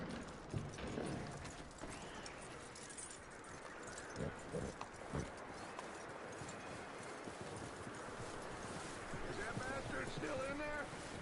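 Horse hooves clip-clop steadily through a Red Dead Redemption 2 game scene, close and fairly loud, under a bed of wind and ambient noise with intermittent voices.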